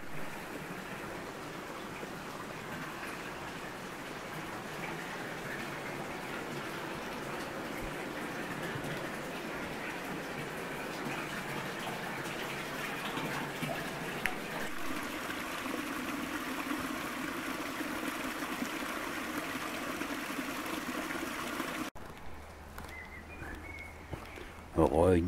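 Water flows steadily beside a village stone wash house along a small path, a constant close rushing and trickling that shifts in tone partway through before cutting off near the end.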